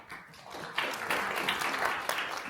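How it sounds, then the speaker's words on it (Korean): Audience applause at an international economic forum, a steady wash of many hands clapping at moderate volume throughout, with no voices over it. "여러분 큰 박수 부탁드리겠습니다."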